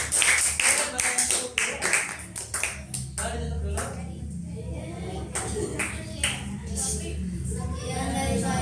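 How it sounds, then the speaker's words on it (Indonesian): Brief bursts of clapping from a classroom audience applauding a presenting student group, irregular and uneven in the first few seconds, then fading under steady voices and room chatter. "beri tepuk tangan dulu buat kelompok"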